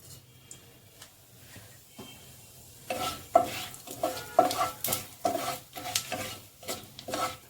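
A bay leaf and a pinch of cumin crackle in a little oil, near-silent at first and then bursting into uneven pops and sizzling hisses mixed with stirring clatter against the pan.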